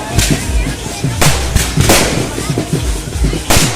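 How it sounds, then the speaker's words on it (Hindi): Firecrackers going off at a wedding procession, a fast irregular string of loud, close bangs and cracks that pop one after another with no pause. "भैया पटाखे पीछे लगा के आ गए।"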